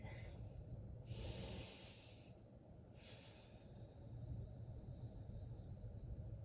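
Deep, slow breaths during a plank hold, two long airy exhalations rising over a low background rumble, close to the listener.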